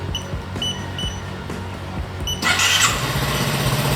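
A Honda Forza 300 scooter is started with its remote key: a few short electronic chirps sound close by, then the engine fires about halfway through and settles into a steady, loud idle.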